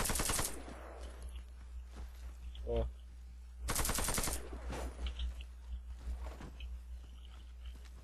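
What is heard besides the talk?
automatic gunfire bursts in video game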